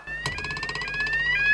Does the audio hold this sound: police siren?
yes